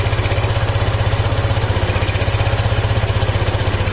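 A Suzuki Access 125 scooter engine idles steadily during carburetor tuning, a loud, close, even putter with a constant rhythmic pulse throughout.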